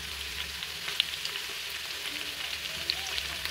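Onion and bay leaf fry in hot oil for pulao, giving a close, steady, dense sizzle with faint stirring crackles throughout.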